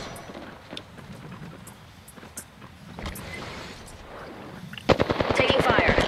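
Rapid automatic gunfire from a video game bursts out near the end as a fast run of sharp, loud shots, following quieter scattered distant pops and game noise, with a voice speaking briefly earlier.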